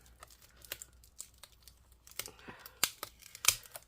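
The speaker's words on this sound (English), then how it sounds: "Be very careful when peeling up the tape and stuff." Tape being peeled off the packaging of a Lenovo ThinkPad Edge E420 laptop: close, quiet crinkling and tearing rustles that build toward two sharper rips near the end, with no talk.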